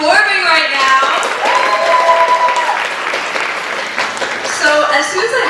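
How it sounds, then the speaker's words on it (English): A large crowd gives loud, sustained applause for an Odissi dancer at her debut recital, with cheering voices and whoops rising above the continuous clapping. "can we get another huge round of applause for how amazing Sia is performing right now?"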